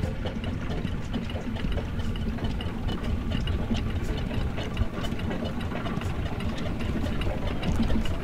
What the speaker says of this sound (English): And another steam engine. Steamroller.